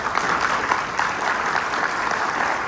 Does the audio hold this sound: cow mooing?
no